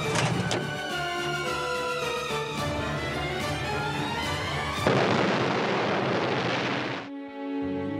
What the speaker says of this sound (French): The explosion entirely blew out the building